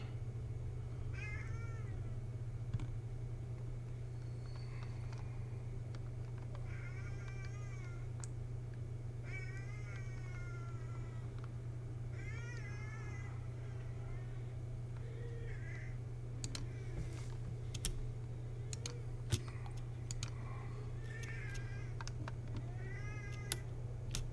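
A domestic cat meows repeatedly in short separate calls over a steady low machine hum, likely from a laser engraver in a workshop, with a few faint clicks scattered throughout.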